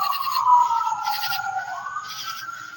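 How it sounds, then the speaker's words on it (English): A siren wails in the distance, its tone sliding up and down in slow sweeps, steady and fairly loud with no voices. "Hardly ever any sirens until I come outside to do this."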